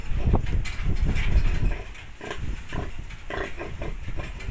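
A pig on a small farm grunts repeatedly in short, irregular bursts, loud and close, with farmyard clatter and rustling around it and no speech.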